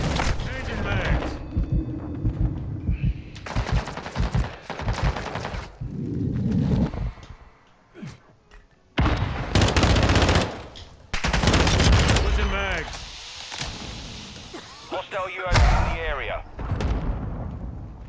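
Video game combat rages with rapid bursts of gunfire and heavy explosions. The loud, dense volleys come in clusters, broken by a few brief lulls.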